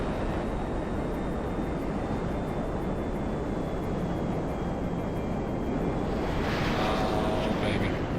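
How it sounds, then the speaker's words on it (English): F-15E Strike Eagle jet roaring in GTA 5, a constant broad rumbling engine noise with a faint high whine, steady and loud with no breaks. "Dream has come true. We have a Strike Eagle in GTA."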